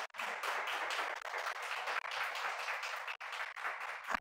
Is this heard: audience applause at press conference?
yes